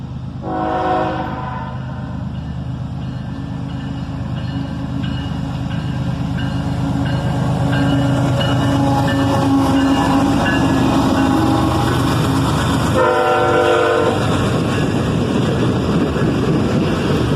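A single ES44ACH diesel locomotive's horn blasts loudly over a steady rumble of passing train, with its bell ringing along, close by and sustained.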